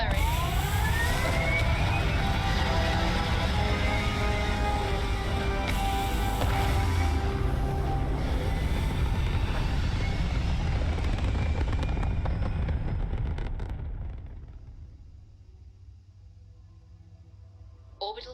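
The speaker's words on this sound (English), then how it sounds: "thrusters firing." Spaceship thrusters firing in Starfield, a loud sustained roaring rumble with whining tones that holds steady for a long stretch, then fades away to near quiet.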